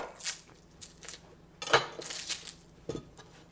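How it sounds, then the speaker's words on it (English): A knife shaves the end off a red onion on a cutting board, giving a few short scraping and tapping cuts, close and fairly quiet, with no talking. "I'm just going to shave off the end of the onion."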